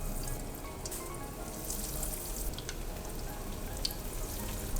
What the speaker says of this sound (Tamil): இப்போ இதை வந்து நம்ம எண்ணெயில் பொரித்து எடுத்துடலாம்